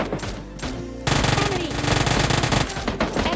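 Automatic gunfire sprays in the mobile shooter PUBG Lite, with rapid bursts of loud shots over game music and effects that grow denser after the first second.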